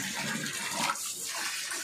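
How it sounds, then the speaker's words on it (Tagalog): Tap water runs into a cooking pot of beef being boiled for pares, a steady splashing gush that holds close and alone for a couple of seconds before the flow eases. "Ang tubig, patayin na."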